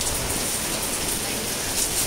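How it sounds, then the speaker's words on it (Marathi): Heavy rain pours down steadily during a planting day, a dense, continuous hiss of drops on surfaces that stays loud and even throughout without a break. "अरे बापरे किती पाऊस चालू आहे"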